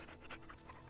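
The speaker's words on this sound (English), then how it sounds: "Other people would yell at their dogs for digging" A dog digs outdoors, scraping bursts of dirt close by with quick, uneven pawing and panting in a short continuous stretch.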